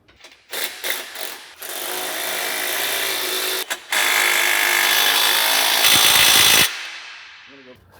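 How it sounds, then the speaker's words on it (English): A power tool runs in sustained bursts tightening the clamps on a Maverick MRT single-tip cat-back exhaust, loud and close, with short pauses between the long whirring runs and a faint voice near the end. "have a friend hold the tip in place while you tighten down each clamp starting at the front, working your way back"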